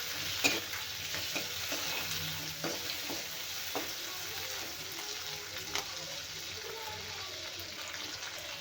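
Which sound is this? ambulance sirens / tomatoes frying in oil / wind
tomatoes frying in oil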